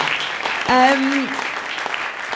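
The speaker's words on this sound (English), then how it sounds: "Can everyone please give a round of applause for the lovely Aradhna?" Applause from an audience at a conference talk session, moderate steady clapping with a brief voice rising above it partway through.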